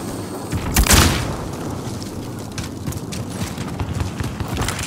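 A thudding boom from a frag grenade in a multiplayer shooter game, a sharp blast followed by rumbling debris and continuous battle noise, no spoken voices.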